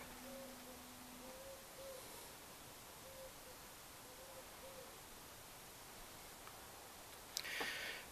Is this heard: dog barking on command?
no